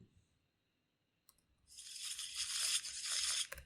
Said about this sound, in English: let's shuffle them up